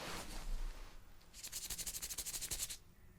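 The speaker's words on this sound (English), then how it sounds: "I'm going to make a fluttering sound like this in either your right or your" A quiet, close fluttering rub beside the ear for an ASMR-style hearing test, a soft brush of noise followed by a rapid rhythmic flutter of about a second, faint and without talk.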